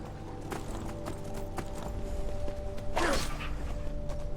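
Horse hooves clip-clop steadily in the Skyrim video game, a regular gallop of thuds with creaking gear and a brief swoosh near the end, set against a continuous game-world background.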